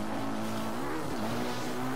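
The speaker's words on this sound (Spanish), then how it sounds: "¡Qué buena moto!" Hylian motorcycle engine from Zelda Breath of the Wild, a steady droning hum with slight pitch rises as it rides along, continuous and close for the whole moment.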